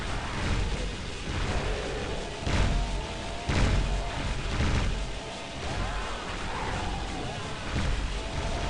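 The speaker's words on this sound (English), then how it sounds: "time for the rocket launcher" Rocket launcher fire and explosions from the video game Serious Sam, a dense, continuous din of battle noise punctuated by several heavy booming thumps at an irregular pace.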